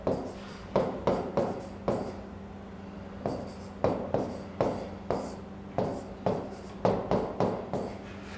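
A pen or pencil scratches number pairs by hand on paper, in short quick strokes with brief pauses between groups, close and fairly quiet.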